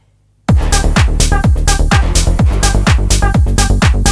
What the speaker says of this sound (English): Then we got the rolling bass line,